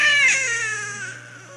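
An infant, presented as the baby Krishna, wails loudly in a single sustained high cry that starts strong and slowly tapers off, heard alone without talk.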